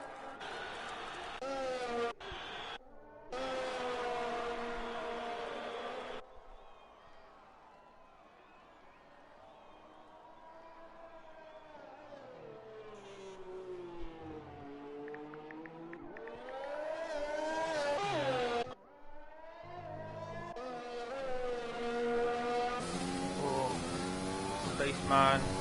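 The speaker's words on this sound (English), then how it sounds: "Spaceman on a hot lap going through the chicane, does that a lot better this time." Screaming F1 2020 race car engines in a video game on a hot lap around Hungary, with revs rising and falling through gear changes and a chicane, under continuous commentary.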